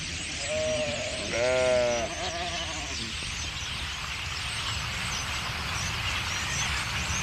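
A sheep bleats in a quick wavering series near the start, fairly close, then fades into a steady outdoor background hiss on the Hungarian Puszta grassland.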